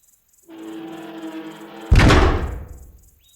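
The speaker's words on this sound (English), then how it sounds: "I pulled the door closed, dropping it into place with a sound of rusted hinges and a loud bang." A heavy door with rusted hinges swings shut with a long creak, then lands with a single loud bang that rings off and decays.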